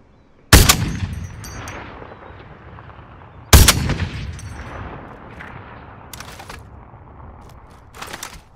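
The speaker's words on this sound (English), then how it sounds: "Shooting, what you shooting at?" Two loud, close gunshot blasts ring out about three seconds apart, each trailing off in a long echoing rumble, followed later by fainter crackling shots in the distance; no talking.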